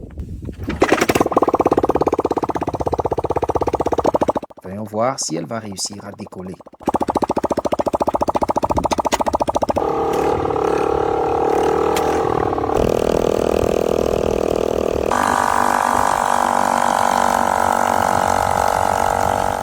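A homemade custom-built motorcycle engine starts and revs, running loud and close for most of the stretch, with its pitch shifting between sections and someone talking over it.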